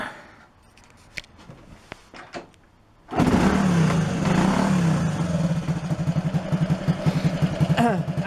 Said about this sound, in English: when I switch the engine on and rev the engine